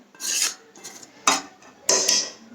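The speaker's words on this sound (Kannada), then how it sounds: "ಈಗ ನಾನು ಗೊಜ್ಜನ್ನು ರೈಸ್ನಾಗ ಹಾಕ್ಲತ್ತೀನಿ" Puliyogare paste being mixed into rice in a pot, three or four rasping scrapes of a spoon against the metal, close and fairly loud.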